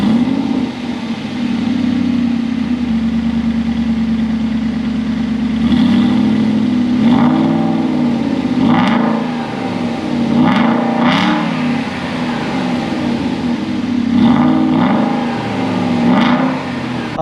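A 2020 BMW X3 M40i engine and valved exhaust rev repeatedly, sharp rising blips with crackles over a steady idle drone, loud and close, with no talking.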